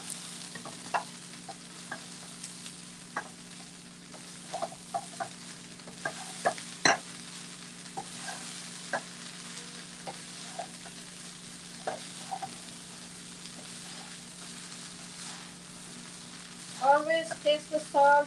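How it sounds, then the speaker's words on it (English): Leftover rice and vegetables fry in a pan with a steady low sizzle, punctuated by sharp spatula scrapes and taps that recur throughout, then a cluster of louder clattering stirs near the end. "Let's fry the rice now."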